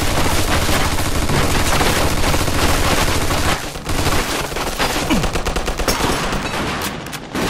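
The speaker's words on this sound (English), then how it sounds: "Looks like we found a machine gun!" Dense machine gun fire in the video game Mafia 2 runs as loud, continuous rapid bursts throughout, with a brief dip partway before the firing picks back up, and no talk over it.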